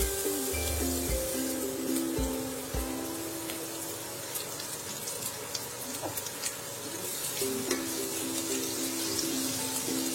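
Six or seven finely chopped garlic cloves frying in hot oil: a soft, steady crackling sizzle like light rain, with faint scraping and clinks from stirring.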